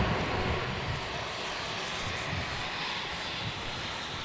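A Jetstar airliner arrives on runway 27 at Melbourne Airport at night, a broad steady engine roar that stays loud and even throughout with no voices over it.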